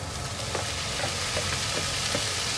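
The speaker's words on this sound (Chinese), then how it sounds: "炒一下，不用炒的时间特别长" Bitter melon is tossed in a hot wok with garlic, giving a loud, continuous sizzle with soft, scraping stirs throughout.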